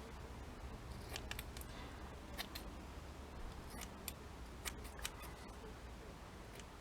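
Scissors snip through a piece of material for a sewing junk journal, several short crisp cuts in irregular bursts over a quiet background.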